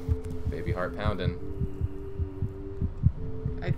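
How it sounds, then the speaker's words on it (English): A baby's heart pounds in the horror game Among the Sleep as a steady, low, throbbing heartbeat under a droning hum, with a brief voice heard over it. "Baby heart pounding."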